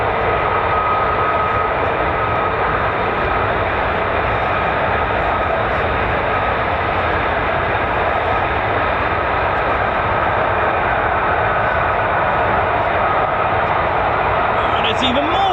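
F-15 and F-35 fighter jets at RAF Lakenheath produce a loud, continuous engine roar that holds steady without letup, a dense broadband rumble filling the whole stretch.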